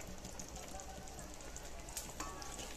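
Gooseberry pickle bubbling in oil in a pan, giving a steady, close, dense sizzle and crackle with faint pops throughout, no voice over it.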